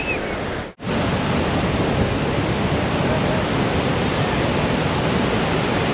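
The Bhatinda (Usri) waterfall roars as a loud, broad, steady rush of falling water close by, briefly cut off near the start and then continuing unbroken.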